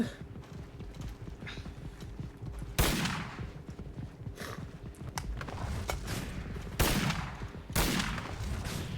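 Gunfire in the Knightfall video game sounds as scattered shots and sharp bursts over a busy, clattering background. Two or three louder reports stand out near the end.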